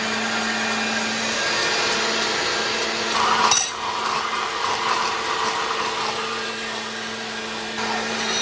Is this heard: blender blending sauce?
yes